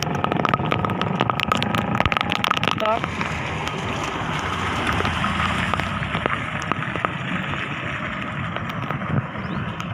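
Rain falling in a village, a steady hiss with patter and sharp drips on nearby surfaces, continuous and fairly close, with a voice talking over it.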